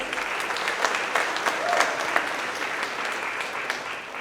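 Audience at a monthly celebration event claps and cheers in a steady round of applause, moderately distant and filling the room.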